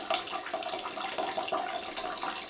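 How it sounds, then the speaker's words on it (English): Cloth diapers being hand-rinsed under a running tap: steady hissing, splashing water with small fluctuations as the fabric moves through the stream, moderately quiet and with no speech. "you can just rinse them under the running water"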